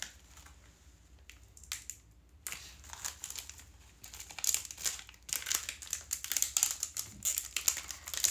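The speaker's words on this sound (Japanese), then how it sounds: "チェーンソーマンのウェハース2個買っちゃおうって言って買ってたので、私が勝手に開封しちゃいます" Chainsaw Man wafer packs being torn open by hand: close crinkling and rustling of plastic wrapper, soft and scattered at first, then growing busier and louder in the second half.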